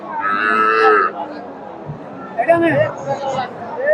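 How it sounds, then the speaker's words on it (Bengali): A cow, a Sahiwal cross, moos loudly and long near the start, followed by another lowing call, with people chattering in the background of a busy crowd at a cattle market in Bogura, Bangladesh. "শাহিওয়ালের ক্রস আছে গাভীটা"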